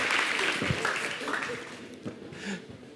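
A television studio audience applauds a band after their song, a steady moderate-level wash of clapping with voices mixed in underneath.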